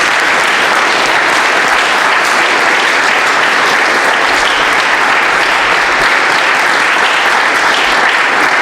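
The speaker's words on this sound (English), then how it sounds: "I think that deserves a little round of applause." Loud, dense applause from an audience at a military academy leadership lecture, continuous and close, holding steady for several seconds without voices.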